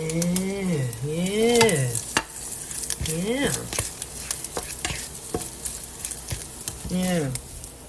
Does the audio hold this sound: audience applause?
no